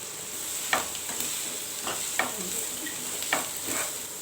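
Chopped onion, green chili and capsicum stir-frying in a pan on high flame for Gobi Manchurian, a steady hiss of sizzling broken by several scraping strokes of a spatula, close and alone.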